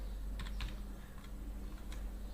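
Keys tap in quick irregular bursts on a computer keyboard, soft and close against a low steady hum, with no voices present.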